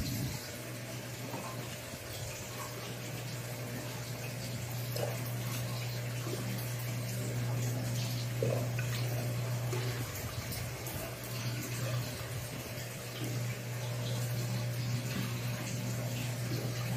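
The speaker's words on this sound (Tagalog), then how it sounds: "Lagyan natin ng tubig." Water runs into a crayfish container for urban farming in a soft continuous trickle and gurgle, fairly quiet, with a steady low pump-like hum underneath for much of the time.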